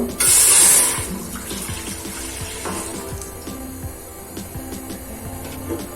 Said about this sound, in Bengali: আমরা একটা পাত্রের মধ্যে 2 কাপের মতো আমরা দুধ নিয়ে নিব।